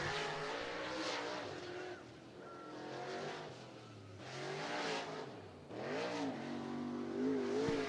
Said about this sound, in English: Second lap coming in here for Sutton